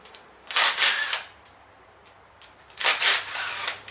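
An impact wrench undoes car headlight bolts in a shed, firing two short rattling bursts about two seconds apart with quiet between them.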